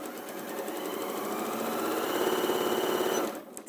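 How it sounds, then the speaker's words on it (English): An Elna sewing machine stitches fabric with a fast, even mechanical whirr of rapid needle strokes that holds steady for about three seconds, then stops abruptly. "And then let's sew and see what happens."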